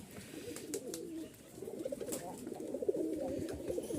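A matched pair of Hatbaji pigeons, male and female, coo softly in a series of low, rhythmic calls, close by and fairly quiet, with faint background clatter.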